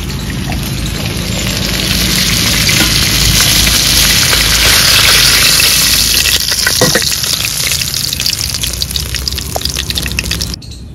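Pomfret fish fries in hot oil, a loud, dense, continuous sizzle and crackle heard close up and alone, with faint clatter near the end.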